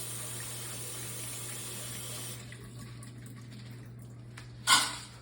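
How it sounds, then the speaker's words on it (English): Water running from a tap over black beans in a strainer, a steady close rush that softens partway through, then a brief splash near the end. "Now we're going to rinse the beans."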